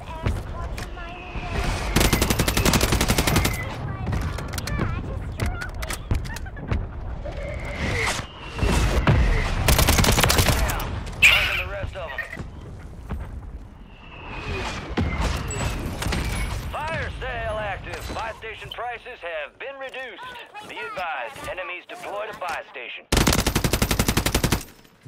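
Bursts of automatic gunfire and booming shots from the Call of Duty video game come in loud waves with quieter gaps between them, while voices talk over the action.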